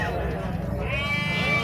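A goat bleats at a goat and sheep livestock fair in Sumé, Paraíba, a wavering cry rising late under a man's close continuous speech and crowd bustle.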